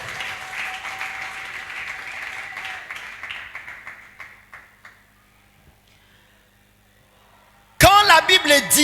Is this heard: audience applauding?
yes